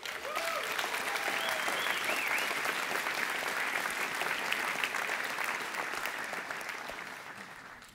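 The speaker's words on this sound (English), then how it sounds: "big round of applause" Sustained applause fills a large conference hall as the Solana community is cheered at the Breakpoint 2023 crypto event, a dense steady wash of clapping lasting the whole stretch, with faint whoops early on that gradually taper toward the end.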